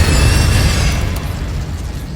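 A spell-casting burst in Hogwarts Legacy: one loud, broad blast with a booming low end that decays over about two seconds, alone without talk.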